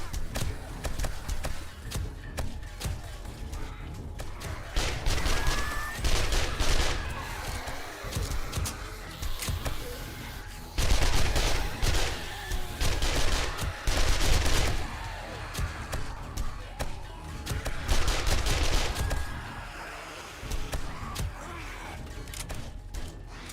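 Gunfire in the video game 7 Days to Die: bursts of rapid shots and clattering fusillades come in waves amid game noise, with a short spoken line near the end.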